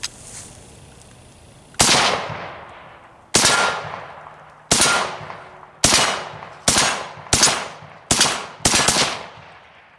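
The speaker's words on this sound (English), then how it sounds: "Throw a few rounds at the old target there, if we can see it, and see how this old rascal shoots." An all-original, numbers-matching SKS rifle fires eight loud single rounds at a target outdoors, each sharp crack trailing off in a long echo, with the shots spaced unevenly and coming quicker toward the end.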